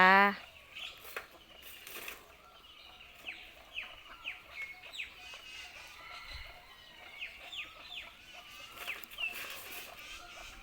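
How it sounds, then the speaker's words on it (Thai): Temple bantam chickens, a flock of around a hundred, cluck and call in scattered bursts at moderate distance, with occasional wing flaps over a quiet background. "ไก่แจ้วัดน้ำผึ้งนี้มีร่วมร้อยตัวนะคะ"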